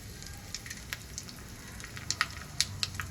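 Asafoetida goes into hot oil for a Marathi neer dosa chutney tempering, giving a faint, soft sizzle with scattered small crackles and pops.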